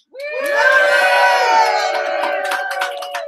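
A loud crowd cheers as a sound effect: a sustained roar of shouting and whooping voices with high screams, opening sharply and staying near and full before tapering slightly at the end.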